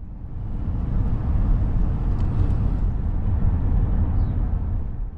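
Steady low engine and road rumble from a car rolling slowly around the small town of Harlowton, Montana, a continuous close drone with no talk.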